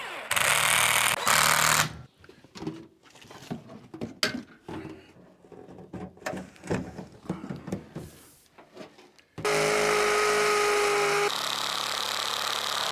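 Power tool driving screws to mount a lightweight boiler during a bathroom renovation, loud bursts of whirring and rattling at the start and end, with quieter handling clatter in between.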